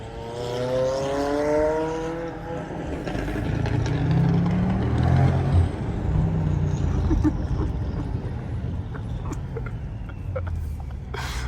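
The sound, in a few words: McLaren 570S driving through city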